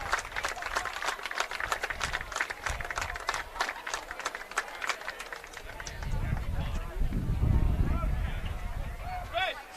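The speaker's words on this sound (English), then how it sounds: "the fans here are applauding Braden as they're letting him into the unit" Football fans at a high school game in the stands clapping in a steady patter of applause, then a low rumble of crowd noise as a commentator talks over it.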